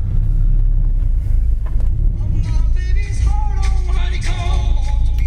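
A Ford Mustang engine idles with a steady, deep low rumble, and a person talks over it partway through.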